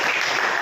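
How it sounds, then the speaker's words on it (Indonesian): Classroom applause from a group of students, a dense steady patter of clapping filling the whole short moment with no talk over it. "Sudah cukup ya, kasih tepuk tangan."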